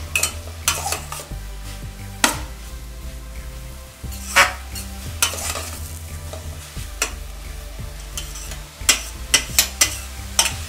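Grated carrots for carrot halwa fry in a pan while a spoon stirs them, giving a repeated scraping and clinking rhythm over a steady soft sizzle, close up and with no talking.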